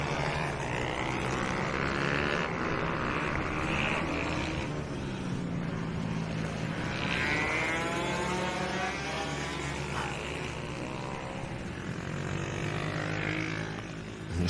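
A mix of 2-stroke and 4-stroke motocross bikes, including a 70cc 2-stroke, rides around the Rowrah track. Their engines drone and rise and fall steadily at a distance, with no talk.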